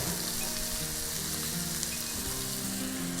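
Onion and fish sauté in a frying pan with a loud, continuous sizzle and faint stirring, alone without talk.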